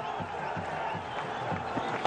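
A cricket stadium crowd at an Afghanistan vs Zimbabwe one-day international roars and cheers, forming a fairly faint, distant, sustained wash of crowd noise.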